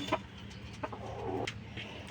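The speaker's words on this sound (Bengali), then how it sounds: "কবুতর মুরগি একসাথেই খাবার খায়, একসাথেই পানি দেওয়া আছে।" Pigeons and chickens together at feeding time in a backyard coop give short, scattered clucks and soft coos at low volume, with a few sharper calls breaking through.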